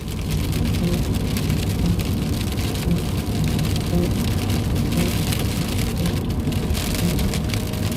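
Heavy steady autumn rain drumming on a surface, dense and continuous with a low rumbling hum beneath, no voices.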